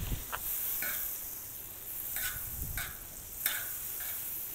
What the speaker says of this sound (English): A lot of butter, a little bit of oil. Get that melted down.